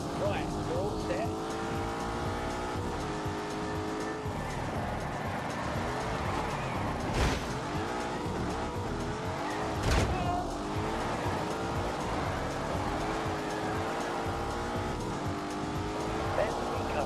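Car drifting in The Grand Tour video game, with a continuous engine drone, rising and falling gear tones and intermittent tire squeal. A player talks over it throughout.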